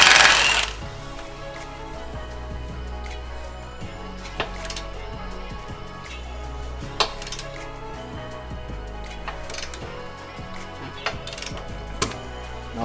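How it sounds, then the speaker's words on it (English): Suspension nuts on a VW Transporter T5/T6 are loosened with a spanner, giving a loud initial clank followed by repeated metallic ratcheting clicks and taps close by. "Now as that starts to loosen, it will start to turn the nut on the other side."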